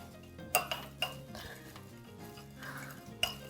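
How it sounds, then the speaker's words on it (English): Sauces for okonomiyaki, Worcestershire among them, stirred together in a kitchen bowl, with a few light clinks of a utensil against the dish over quiet scraping and stirring. "So mixing the two together."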